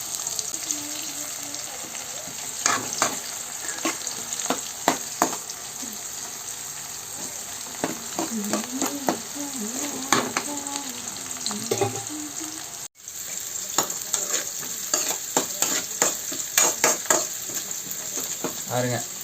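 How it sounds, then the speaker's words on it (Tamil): Onion, garlic and mustard seeds frying in oil for a tempering: a quiet, continuous sizzle broken by frequent scrapes and clinks of a stirring spoon, with a voice speaking briefly. "போட்டு வெங்காயம் பூண்டு கடுகு இதெல்லாம் போட்டு தாளிச்சிட்ருக்கிறேன்."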